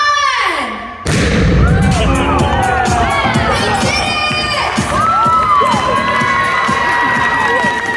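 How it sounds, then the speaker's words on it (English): A hydrogen-oxygen balloon explodes at a science museum with a sudden loud bang, followed at once by a crowd of children shouting and cheering that carries on to the end. "Hydrogen, oxygen, balloon explosion in 3"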